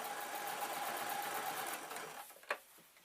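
A sewing machine stitches zebra-print fleece for a slipper, running steadily forward and back over the starting point, close and clear, then stops with a sharp click.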